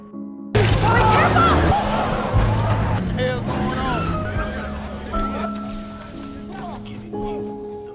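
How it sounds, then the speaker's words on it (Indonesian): A car in a film speeds off and crashes into a road barrier, with loud revving, tyre noise and crashing impacts at the start, under a narrator's voice and background music. "Namun mobil itu mendadak melaju kencang dan menabrak pembatas jalan."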